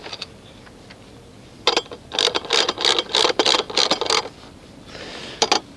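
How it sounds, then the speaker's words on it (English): A half-inch socket wrench tightens a bolt on a homemade ramp, giving rapid bursts of close ratchet clicks in several quick runs. "we're gonna get a socket and tighten it up"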